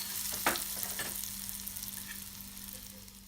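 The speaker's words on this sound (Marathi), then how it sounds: "आता ही झालेली फोडणी आपण ह्याच्यावर ओतून घेणार आहोत." Hot spice tempering poured over eggplant bharit made with coconut milk, giving a steady close sizzle with a few sharp crackles early on that gradually eases and fades over a constant low hum.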